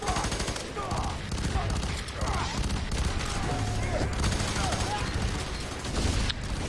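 Dense, rapid gunfire rattles on without a break in the F.E.A.R. 3 shooter game, with game noise and voices mixed in underneath the steady fusillade.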